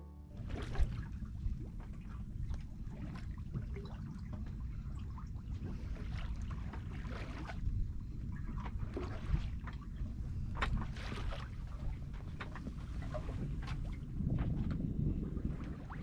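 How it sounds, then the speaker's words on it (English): A sailboat moves quietly under light wind after leaving Amsterdam, with a steady, soft wash of water along the hull and gentle breezy rushing throughout, and no voices. "the wind picked up just enough for us to have the most quiet sail ever"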